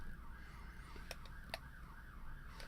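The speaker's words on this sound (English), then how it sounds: "Okay, no, it actually was an ambulance this time." Ambulance siren outside, wailing in a steady rising-and-falling cycle, faint and distant behind the room, with a few sharp clicks nearby.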